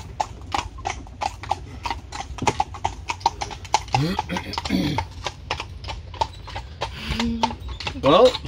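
Horse hooves clip-clop in a steady, regular rhythm as a horse pulls a carriage along a road, close and clear, with people talking intermittently over the hoofbeats.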